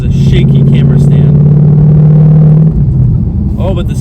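A 2020 Ford Mustang GT engine drones loudly and steadily as the car drives along. A deep, sustained engine note carries over a low rumble and then shifts in pitch near the end.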